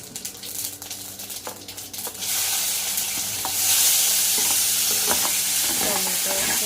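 Vegetables for an okra and potato sabzi hit a little hot oil as a tempering: a quiet clatter, then a sudden loud sizzle that jumps higher and stays as a dense, close hiss with scraping stirs.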